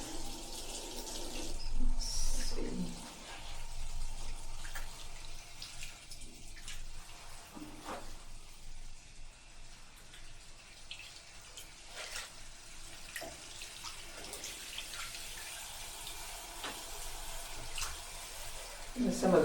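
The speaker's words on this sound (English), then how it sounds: "I normally do a couple of sinkfuls of water to rinse" Water runs from a tap into a sink being filled to rinse bikepacking laundry, a steady splashing rush lasting throughout with occasional clinks and sloshes, while a person talks over it.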